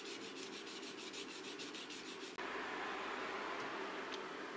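A sashimi knife blade scrapes on a whetstone in repeated rhythmic rasping strokes, then shifts to a steadier, louder grinding rub after a brief break.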